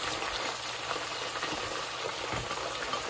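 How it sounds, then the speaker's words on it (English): Onions fry in palm oil over a medium gas flame with a constant, even crackling sizzle that holds steady throughout with no talking. "We let the onions fry in the oil for about 5 minutes before adding the tomato sauce"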